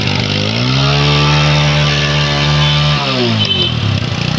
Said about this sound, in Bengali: তারপরে আমি আপনাদেরকে বাইকটা সাউন্ডটা দেখাই একটু